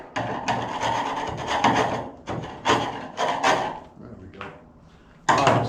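Sanding body filler on a car body panel, a dry abrasive rasping in repeated strokes with short pauses between passes, close and fairly loud.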